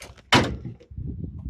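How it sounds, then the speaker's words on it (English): Hood of a 1965 Ford Mustang coupe with an inline-six 200 cubic inch engine popping open, a single sharp metallic clunk followed by a brief rattling decay, with no voices. "let me pop the hood"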